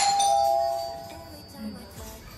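A home doorbell rings once with a bright electronic ding-dong chime that decays over about a second, followed by quiet room tone with faint indistinct noise.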